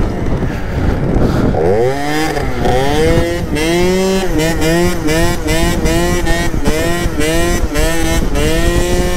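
Small moped engine while riding, a loud buzzy two-stroke drone rising in repeated revving sweeps as the throttle opens and eases, with brief dips between pulls.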